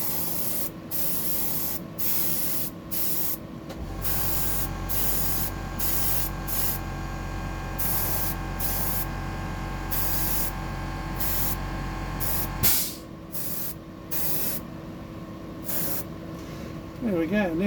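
Aerosol paint hisses in a steady, continuous stream as another coat goes onto a deep diver fishing lure painted as a bony bream, with brief pauses and a low hum running beneath part of it.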